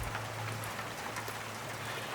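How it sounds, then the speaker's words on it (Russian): Steady rain falls in a rural Ural village, a constant close hiss of drops on surfaces with no pause, heard alone without talk. "Сейчас ждем, когда дождик стихнет."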